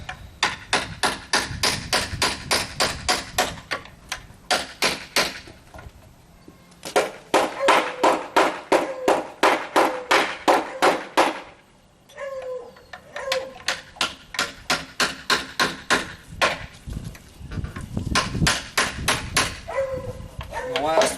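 Rapid bursts of sharp wooden knocks as a wooden wedge is hammered into a snug mortise and tenon joint, several quick runs of blows separated by pauses, close and crisp, with faint bird calls around.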